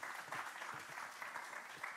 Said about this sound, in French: Une main d'applaudissements.